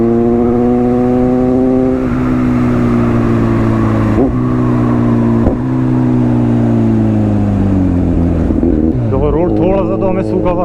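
A superbike engine roars loudly and steadily at high speed, its pitch sliding slowly downward as the bike holds its run, with constant wind rush and brief shifts in tone near the end.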